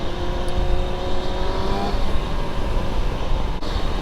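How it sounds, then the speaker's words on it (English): A Yamaha R1 motorcycle engine runs loud and close with a steady, gritty hum, the pitch rising briefly before settling back to an even drone. "this bike's running awesome"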